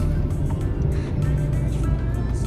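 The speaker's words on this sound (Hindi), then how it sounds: "सो गाइस क्वेश्चन पहुँचे हैं और आगे ट्रैफिक लग रहा है" Steady road traffic on a highway near Udaipur, with a low, continuous engine rumble from nearby cars and heavier vehicles and a few faint higher swishes of vehicles passing close by.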